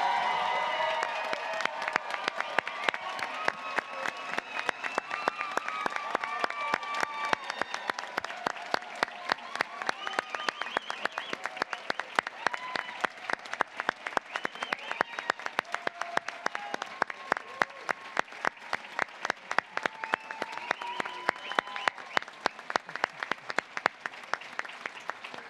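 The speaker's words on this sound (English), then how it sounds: "I would like to ask the audience to stand and applaud all of the graduates of" A commencement audience of the class of 2022 applauds its graduating class, with sustained, dense clapping that carries on for the whole stretch. The applause grows more distinctly rhythmic toward the end, with some cheering mixed in.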